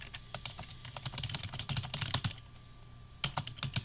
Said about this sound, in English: I wish my keyboard could keep up.